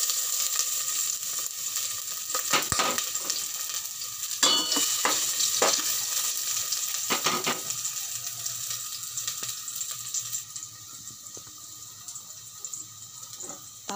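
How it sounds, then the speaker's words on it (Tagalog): Garlic sautéing in hot oil, a steady crackling sizzle throughout with several sharp clanks of a utensil against the pan, close, fading slightly toward the end, no speech. "maglagay muna tayo ng oil. Tapos, garlic, igisa natin."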